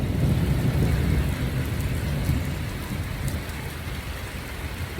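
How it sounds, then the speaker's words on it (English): Heavy rain pours down outdoors in a thunderstorm, a loud, dense, continuous hiss with deep rumbling thunder underneath. It eases slightly toward the end, with no talking. "You can hear the thunder."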